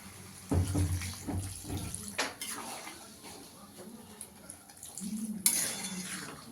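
Hot water splashes into a pan of paneer, cauliflower and potato curry, with clattering of pots and utensils in a home kitchen and a brief pouring rush near the end, fairly quiet and close.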